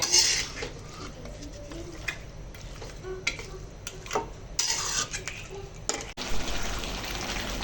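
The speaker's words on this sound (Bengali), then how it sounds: "এখন ভালো করে কষিয়ে নিব" Duck meat for biryani sautés in a pot, with metal spoon scrapes and clinks against the pot over a low sizzle, close and fairly loud.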